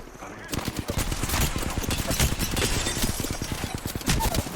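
Rapid gunfire rattles through an Apex Legends Arenas match, dense bursts of shots crackling continuously at close range with a player talking over it.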